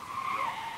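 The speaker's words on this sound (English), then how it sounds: "There's a car with rowdy teenagers tearing down the road outside the cemetery." Car tires skid and squeal along a road outside a cemetery in an audio drama scene, one sustained screech of rubber lasting under a second, fairly close and alone.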